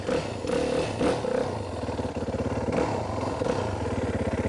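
A dirt bike ridden slowly on the clutch, its engine throbbing close by in an uneven, held-back rumble with light rattling, no voice over it.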